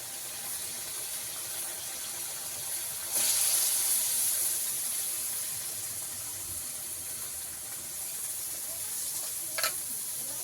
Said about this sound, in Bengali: এবারে চালটাকেও এর মধ্যে ভালো করে ভেজে নেব।